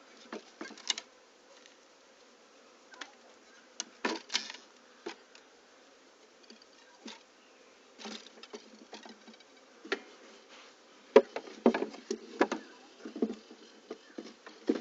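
A very small swarm of honey bees in a hive gives off a faint, intermittent buzzing and soft patter, with scattered louder bursts of nearby wings and no talking.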